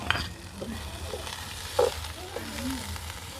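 Curry leaves sizzle in hot oil for a village-style Jaffna chicken curry, a soft frying hiss with a brief louder spit near the middle and faint background sounds.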